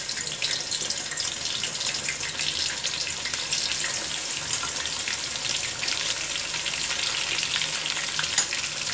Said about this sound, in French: nous allons faire sauter veillette, un peu d'oignon, du laurier,